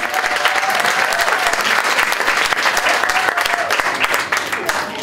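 Wedding guests at a reception give a loud, sustained round of applause, dense and continuous clapping from a large crowd throughout, with a few voices mixed in.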